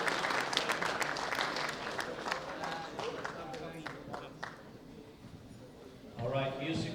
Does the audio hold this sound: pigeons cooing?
no